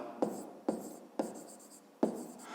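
Pen strokes scratch across paper while a height measurement of 7 cm for a small box is written down, four short quick bursts with brief gaps, quiet and close, with no talk.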